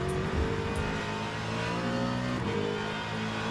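Race car engine in the sim racing game Le Mans Ultimate, a steady sustained drone holding near the same pitch with a slight rise and dip, loud and continuous with no talk over it.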